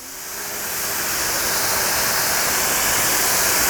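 A pressure washer sprays water onto a car wheel, a loud, steady, close hiss that builds in the first moment and then holds constant with no talk.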